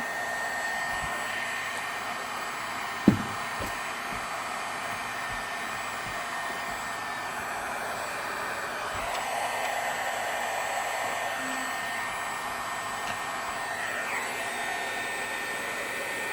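A heat gun runs steadily while warming up, giving a constant close airy blower roar, with a single sharp knock early on and faint handling sounds.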